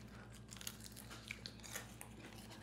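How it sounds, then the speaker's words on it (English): Close, wet chewing with repeated crunchy bites of Wingstop fried chicken wings over a low steady hum, no talking. "The chicken real crunchy."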